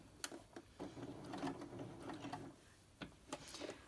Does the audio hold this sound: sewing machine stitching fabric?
yes